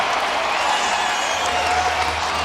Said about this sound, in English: This crowd is not going to take a seat,